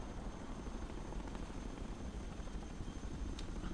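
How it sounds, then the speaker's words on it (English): A Chinook helicopter in the video game Broken Arrow gives a steady whirring rotor drone with faint rhythmic chop, moderately quiet and continuous, with no voices. "that Chinook hopefully will take that Su-57 out of here."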